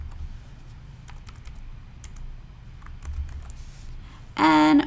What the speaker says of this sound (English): So I'm going to type in last year's